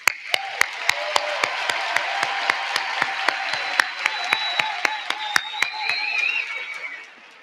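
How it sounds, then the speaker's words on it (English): Crowd applause at a School of Social Work summer commencement ceremony, honoring the day's organizers. A sustained wash of clapping carries evenly spaced, sharp claps standing out in a steady rhythm before it fades at the end. "I would like to ask you for one more well-deserved round of applause for today's organizers"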